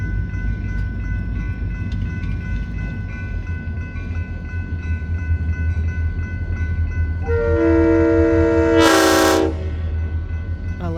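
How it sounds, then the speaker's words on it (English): A diesel locomotive horn on the KRR railroad in Oklahoma blasts loudly for about two seconds, close by, over a steady low engine rumble that continues throughout with no talking. "The sound of that horn."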